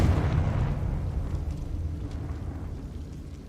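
A Confringo fire spell from Hogwarts Legacy bursts with a single loud, low explosive boom that rumbles and slowly fades away.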